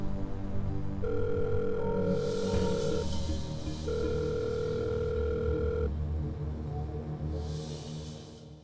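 An outgoing phone call rings unanswered, with two long ringback tones repeating over a background music bed and swells of louder noise.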